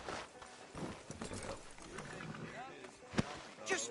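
Horse hooves clip-clop at a gallop in the Red Dead Redemption 2 video game, mixed under game dialogue and sound effects, with a sharp louder hit near the end.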